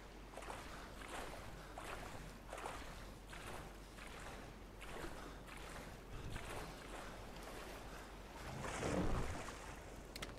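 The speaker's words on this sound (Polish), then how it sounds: "O, motorówka." A motorboat in the Far Cry 3 video game cruises across water, its steady engine drone running the whole time with rhythmic wave splashes and a louder surge of spray near the end, and no talk over it.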